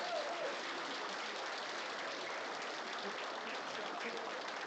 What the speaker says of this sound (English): Can we give one more round of applause, please?